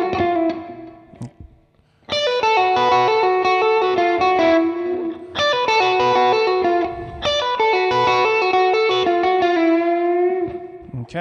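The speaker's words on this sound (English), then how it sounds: "this next little fast run I'll do first" An electric guitar on the bridge pickup, heavily distorted and run through effects, plays fast repeated runs and licks in three loud bursts after a brief quiet start, with no voices.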